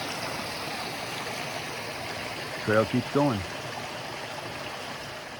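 Iron-reddened Red Creek in the Roaring Plains backcountry, with small mini waterfalls, rushes in a constant close hiss, while a voice speaks briefly midway.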